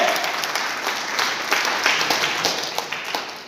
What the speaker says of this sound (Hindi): एक बार जोरदार ताली लेडीज के लिए।